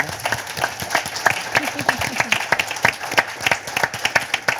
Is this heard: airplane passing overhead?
no